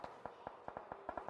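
Close-range gunfire in the PUBG Mobile video game, a quick, evenly spaced string of about ten sharp shots sprayed in rapid succession, fairly faint under a low background.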